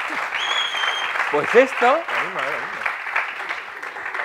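An audience claps through a talk on artificial intelligence, a steady wash of applause that runs the whole time while someone speaks over it.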